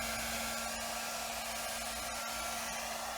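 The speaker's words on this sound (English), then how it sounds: "Let's go ahead and turn it on. Jeez. So that's how it sounds." A Xiaomi Mijia water ion hair dryer runs steadily up close, a constant loud airy whoosh with a fixed motor hum underneath and no talking.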